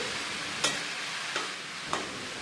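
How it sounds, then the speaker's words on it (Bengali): Snake gourd stir-fried in a pan over a medium flame: a steady frying hiss with three sharp scrape-clicks of the spatula spaced about half a second apart, close and alone. "চিচিঙ্গাটা বেশ কিছুক্ষণ ধরে নেড়েচেড়ে ভেজে নেব বেশ খানিক্ষণ ধরে এভাবে নাড়াচাড়া করে নিতে হবে"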